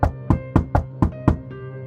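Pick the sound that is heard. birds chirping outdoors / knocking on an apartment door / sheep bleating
knocking on an apartment door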